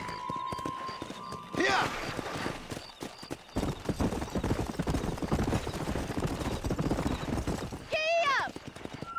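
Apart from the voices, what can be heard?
horse galloping in the video game Red Dead Redemption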